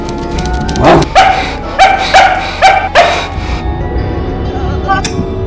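A dog gives a run of about five sharp, high yips and barks, close and loud, then a brief whimpering cry near the end, with no talk over it.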